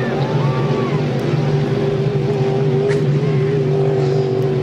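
A 5-litre hydroplane racing boat engine roars around the final turn of a race at Beauharnois, a loud sustained whine with a slight pitch waver, heard alone without talk.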